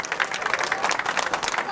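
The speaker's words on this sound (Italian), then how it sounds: "vorrei che a questo ragazzo lo accogliamo con un grande applauso" An audience claps with warm, continuous applause to welcome a singer onstage at a Mediterranean gala evening. The dense clapping is close and lively and keeps a fairly even level throughout.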